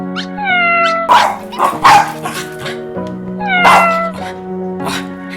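A crowd of small and large dogs and cats clamors up close as a sound effect in a Hindi horror audio story, with overlapping barks, yips, whimpers and meows in quick bursts throughout.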